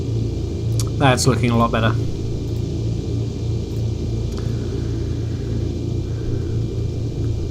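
A simulated aircraft piston engine in the X-Plane flight simulator, held at about 1200 RPM, drones as a steady low rumble throughout, with someone speaking briefly over it.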